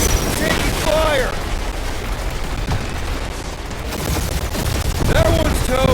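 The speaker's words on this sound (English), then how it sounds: "Taking fire." Blaster fire and booms rattle through a space dogfight in the Guardians of the Galaxy video game, with rapid bursts and whooshing passes over a dense, loud roar while characters talk over the action.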